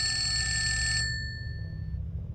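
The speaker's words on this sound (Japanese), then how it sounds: "電話ベルの音が闇夜になる。" A telephone bell rings in a dark horror-story setting, a single bright metallic jangle that sustains for about a second, then rings out and fades into low ambient hum.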